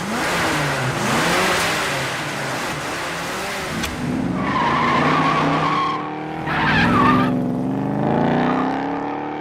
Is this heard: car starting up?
yes